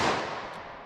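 One loud, close report from a .32 H&R Magnum revolver shooting DoubleTap copper hollow point rounds at a ballistic gel block, a crisp crack fading quickly.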